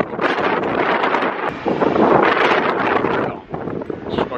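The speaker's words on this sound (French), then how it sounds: "Mais on va entendre que du vent je crois." Loud wind buffeting a microphone beside a lake at Tamatsukuri Onsen, Japan, a rough roaring rumble that surges and dips, with no clear voices.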